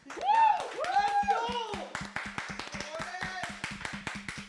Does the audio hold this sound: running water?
no